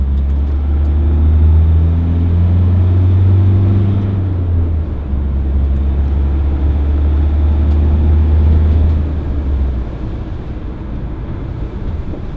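A 2017 Ford Transit 2.2 TDCi 350 rear-wheel-drive curtainsider van on the move, its diesel engine droning low and steady with rising and falling revs under cabin road and wind noise.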